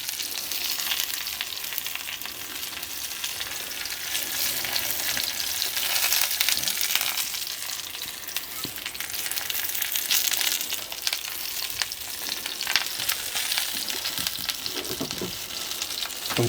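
Mushrooms in a fry-up sizzle and crackle on a heated shovel, a bright continuous hiss with occasional pops and stirring scrapes, close and steady without any voices.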